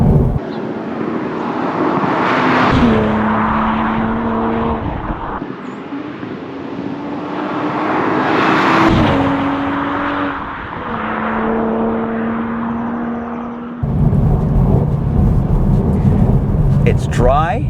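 A 2026 Toyota Supra Final Edition drives on a dry, warm road with a steady engine drone and tire roar, its pitch rising and falling through gear changes, with brief lulls between pulls.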